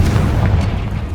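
Fire-blast spell explosion in Hogwarts Legacy, a deep rumbling boom that fills the short moment with dense low-end roar and no voices.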